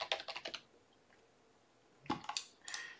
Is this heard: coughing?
no